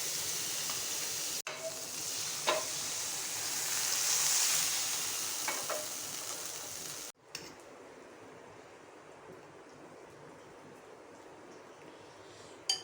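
Bread slices dipped in besan batter sizzle in butter in a frying pan, a steady hissing that is louder at first and drops to a softer, even sizzle after a sharp break.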